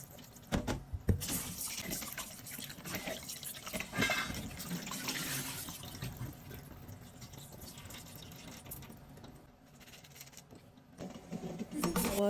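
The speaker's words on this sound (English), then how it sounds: "I washed the rice until the water ran clear" Basmati rice is rinsed under running tap water, giving a steady near splash and gush with sloshing as the grains are stirred.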